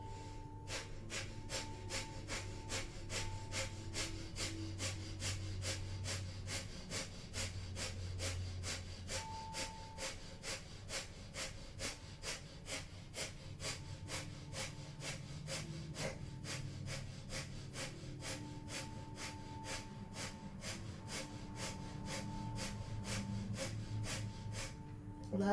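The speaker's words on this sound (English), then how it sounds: "So we'll begin 1 minute of breath of fire." Breath of fire during Kundalini yoga Nabhi Kriya: rapid, rhythmic forceful nasal exhalations pulsing steadily, close and fairly quiet, over a soft low drone of background music.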